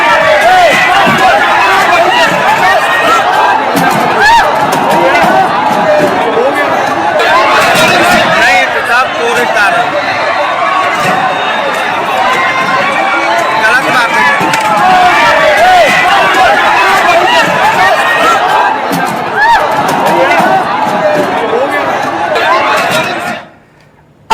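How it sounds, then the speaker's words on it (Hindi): A huge, unruly crowd at a Pawan Singh election rally in Bihar roars and shouts in a continuous loud din of overlapping voices, sustained throughout before cutting off abruptly. "बेकाबू भीड़ ने कुर्सियां तोड़ दी"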